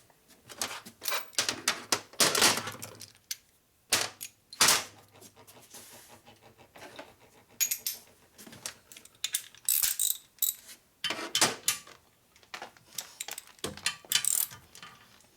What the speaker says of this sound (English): Torque these ones down here.